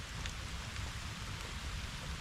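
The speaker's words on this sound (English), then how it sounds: "Right in the middle of the downpour." Steady, dense rain pours down without a break, a constant hiss of heavy drops with a low rumble beneath, and no voices.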